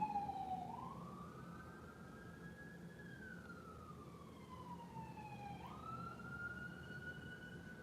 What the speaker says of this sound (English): Ambulance and the chaser.